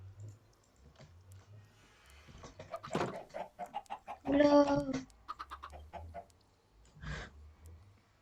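Chickens clucking in a survival video game, short bursts and squawks scattered over several seconds, mixed with someone speaking French over them.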